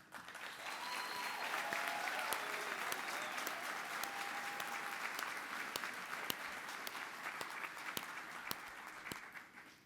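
An audience at a 2023 Catholic school of social service diploma ceremony gives the graduating class sustained, dense applause, a broad wash of many hands clapping that holds steady before tapering off.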